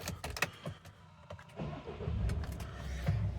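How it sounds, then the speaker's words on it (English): A 2013 Peugeot 3008 2.0 HDi diesel engine cranks with a few sharp clicks, then catches and settles into a steady, low rumbling idle close by. "I'll just start the car"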